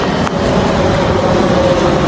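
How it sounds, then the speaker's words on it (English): Airplane passing by, a loud steady broadband roar with a faint droning tone, filling the whole stretch without talk. "it's gonna be loud because there's a plane going by"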